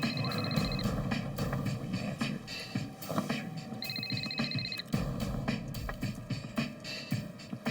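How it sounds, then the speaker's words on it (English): A telephone rings in two short trilling bursts separated by a pause, heard under a busy background of thumps and ambient noise. "That afternoon, Paulo's phone rang"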